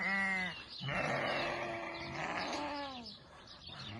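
Yearling sheep bleat repeatedly at a livestock market in Kara-Balta: long, wavering, nasal cries overlapping one another, fairly close, with faint background murmur and no clear speech.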